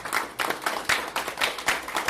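A small group applauds a committee member at a bicycle, pedestrian and trails advisory committee meeting, giving a short burst of brisk, close hand clapping with a slightly uneven rhythm.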